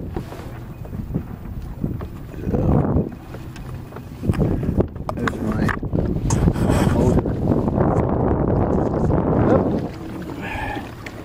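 Wind buffets a small sailboat out on the water, loud gusty rumble rising and falling against the microphone with occasional creaks and water sounds, and no talking.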